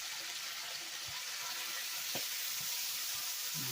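Cooking wine hits a hot wok of shredded pork and Chinese radish stir-fry, producing a soft, steady sizzle with a few faint clinks and splashes in the background.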